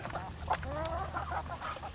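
Young growing-stage chickens on a farm clucking, several soft overlapping clucks and short calls close by over a low background hum.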